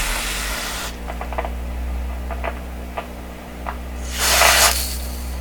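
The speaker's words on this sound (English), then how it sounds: "Seemed like while I was spraying it was noisy." Aerosol spray hisses inside a 1929 Victor RE-45 radio, in two bursts, one at the start and one near the end, with small clicks and crackles between them over a low steady hum.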